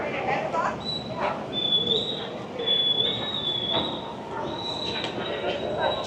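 A high, steady whistle blows repeatedly at seven o'clock over a Boston harborwalk during a tall ships festival, several sustained tones separated by short gaps, heard at a distance over crowd noise.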